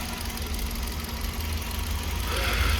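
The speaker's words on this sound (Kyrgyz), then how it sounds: "Так, мынакей достор мотору. Жаңы мотор," A 2016 Hyundai Solaris with automatic gearbox idles with its hood open, a steady low engine hum and faint mechanical ticking holding at even level throughout, no voices over it.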